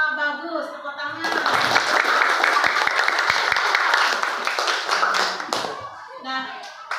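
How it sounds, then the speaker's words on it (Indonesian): Applause breaks out in a classroom after children's group presentations: dense, close hand clapping that lasts several seconds and then fades, with young voices heard before and after. "Tepuk tangan."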